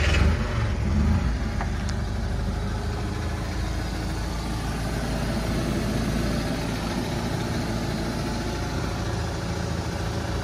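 A 1968 Fiat Autobianchi 500 Giardiniera engine catches with a brief start-up surge, then settles into a steady, close, low idle that runs on alone.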